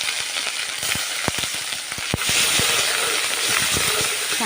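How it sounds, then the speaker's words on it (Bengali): Onion paste dropped into hot oil with curry leaves for a masala fish curry, a loud hissing sizzle that surges halfway through, with sharp crackles and spoon knocks throughout. "এবার আমি দেব পেঁয়াজ বাটা।"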